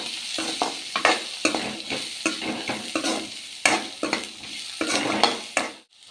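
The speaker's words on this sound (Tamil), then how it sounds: "இப்போ இதோட மஞ்சத்தூள் சேர்த்து நல்லா வதக்கி விட்டுடலாம்." Black-eyed peas sautéing with turmeric in a pan, a steady close sizzle broken by repeated scraping strokes of a spoon stirring against the metal, ending in a brief quiet pause.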